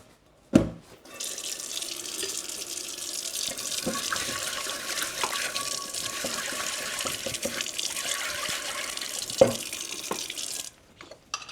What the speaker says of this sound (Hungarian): akkor lehet csak így elmosni szappanos vízzel